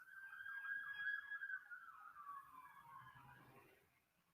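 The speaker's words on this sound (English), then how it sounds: "Yeah, y'all hear them police sirens?" A far-off police siren wails with rapid yelping sweeps that slow into a long descending tone, faint and fading toward the end.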